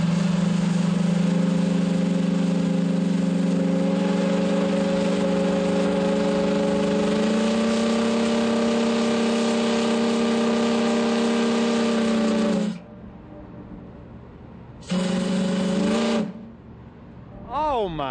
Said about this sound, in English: we're going to hear the whistle, the historic whistle.